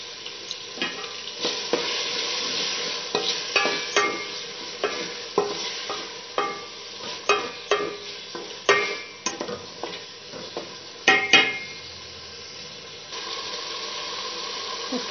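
Tomatoes stirred and fried with onion and garlic in a pan: a steady sizzle broken by repeated scraping stir strokes, close and clear, with no voices.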